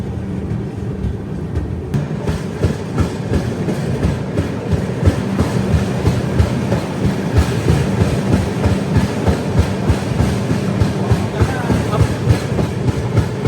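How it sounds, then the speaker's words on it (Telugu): Dakshin Super Fast Express (12721) train pulling out on its rails, a steady loud rumble with rhythmic clickety-clack of wheels over joints, continuous and close throughout. "బయలుదేరుతుంది మన బండి."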